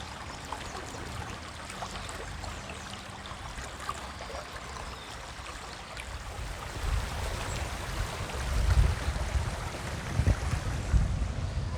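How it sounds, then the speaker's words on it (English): The River Went, a small shallow river beside Brockadale Nature Reserve, flows steadily in a soft continuous wash that swells slightly louder toward the end, with outdoor breeze and no talking. "Here we are, sat at the side of the River Went."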